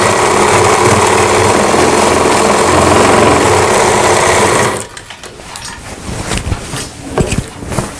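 A sewing machine stitching a kanchli blouse runs loud and close in a steady, continuous whir for several seconds, then stops abruptly, leaving quieter handling clicks and rustles of fabric.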